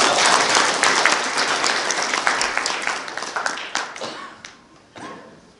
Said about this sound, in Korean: 박수를 한번 보내주시겠습니다